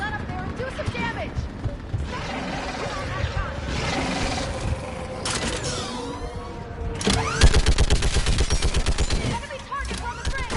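A mounted gun fires at enemies in Mass Effect 3, heard as rapid, loud bursts of gunfire, densest in a rhythmic stream near the end. Mechanical clanks and game battle noise run throughout, with voices between the bursts.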